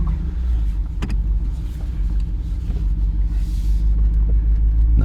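A Jeep Wrangler 392 with its V8 fires up and settles into a steady, deep idle, its loud low rumble continuous throughout and swelling slightly toward the end.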